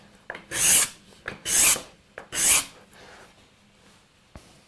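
A card scraper takes fine shavings off a wooden workpiece, held close to 90 degrees: three loud, rasping strokes in a steady rhythm, each about half a second long, separated by short pauses and followed by quieter handling.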